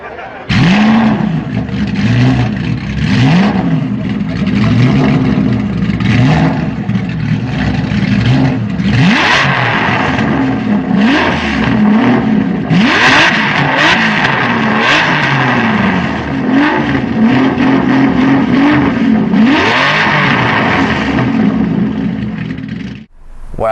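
An Aston Martin Zagato V12 with a motorbike-style exhaust revs hard again and again, loud and close, in repeated rising and falling blips with a throaty rasp for the whole stretch.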